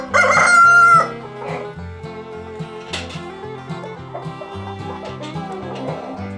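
A Rhode Island Red rooster lets out one loud, close crow in the first second, followed by a steady stretch of softer, lower chicken sounds with no talking.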